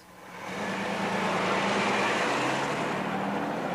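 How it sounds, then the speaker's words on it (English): Freeway traffic of cars backed up after the 1994 Los Angeles earthquake produces a steady, broad roar that swells in the first half-second and then holds loud and continuous. "There's probably several thousand cars backed up."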